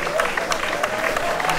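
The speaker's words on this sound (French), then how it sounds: "déjà que Thomas se fait applaudir" Applause from a golf crowd at the Open de France Legends in St. Cloud, steady clapping with voices mixed in, close and lively.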